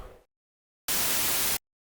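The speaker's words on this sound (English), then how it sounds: "So let's do white noise." A synthesized white-noise burst for a music buildup: a short hiss cuts off abruptly, then after a gap a loud, steady, flat wash of noise runs for under a second before stopping sharply.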